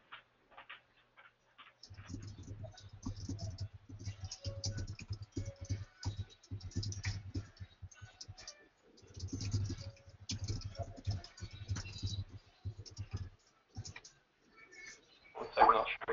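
Computer keyboard typing in two bursts of rapid, uneven clicks, close and moderately loud, with brief pauses between runs and a short voice near the end.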